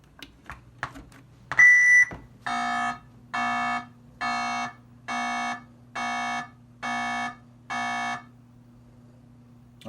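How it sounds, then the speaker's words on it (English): Electronic beep tones from a 1978 Atari Super Breakout arcade circuit board under repair: one brief higher tone followed by seven evenly spaced, identical beeps in a steady rhythm over a low constant hum. "So our last tone should be high."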